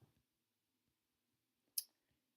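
A single sharp mouse click in image-editing software, brief and close, amid near silence with faint low hum.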